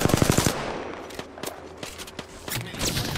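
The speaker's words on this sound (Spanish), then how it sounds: "Se llevan todos los balazos a Ticho" Automatic gunfire in the video game Apex Legends: a loud, rapid burst of shots, then scattered single cracks and short volleys, mostly on its own with little talk.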